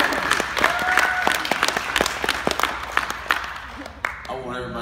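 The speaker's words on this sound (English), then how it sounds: "give a round of applause for Donald Robinson" A crowd at a teen scholarship awards ceremony gives a warm round of applause, with steady overlapping claps that rise and continue, while a voice briefly starts speaking as the clapping thins near the end.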